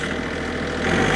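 A Kioti CK3510 tractor engine in first gear at mid-range throttle gives a steady, close diesel drone with a slight knocking pulse, swelling a little at the end.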